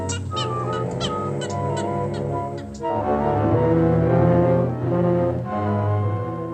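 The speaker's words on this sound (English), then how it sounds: "The gallinule's angry scolding gives warning that the prowler of the Everglades is still on the loose." A gallinule in the Everglades gives an angry scolding call: a series of harsh, honking notes close by, set against a thick, sustained harmonic backdrop that swells and continues throughout.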